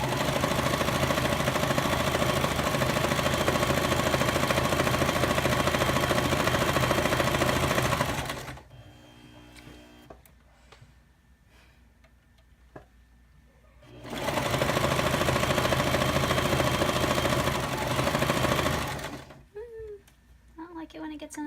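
A sewing machine seams fabric hems for a cosplay outfit, running loud and steady in two long bursts separated by a pause with soft handling noises and brief talk.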